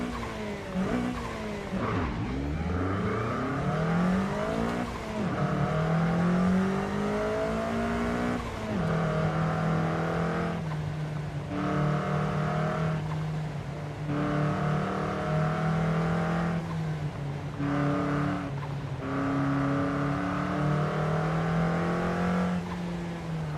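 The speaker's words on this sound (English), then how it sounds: "Car sounds nice from the inside." A tuned car's engine in Forza Horizon 5, heard from the cockpit, revs up and down continuously through gear changes, with occasional tire squeal and no speech over it.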